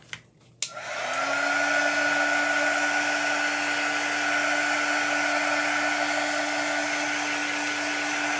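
Hair dryer blowing on chalk paste spread over a honeycomb stencil frame; after a click it switches on and holds a loud, steady whining blow close by, with no talking.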